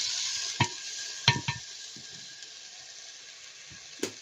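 Loti (taro stolons) being stirred into a spice paste frying in a pan for a koi fish curry: a faint steady sizzle broken by a few sparse scrapes and knocks of the spoon.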